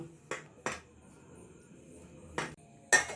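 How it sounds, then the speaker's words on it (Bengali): Flour dough being mixed by hand with salt and white oil in a bowl, with a few sharp clinks and knocks against the bowl spaced irregularly over quiet background, no speech. "এবার ভালো করে মিশিয়ে নিয়ে একটা ডো রেডি করে নেব"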